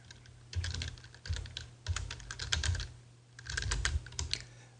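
Quiet, brisk typing on a computer keyboard comes in several bursts of rapid clicks separated by short pauses, with no voices.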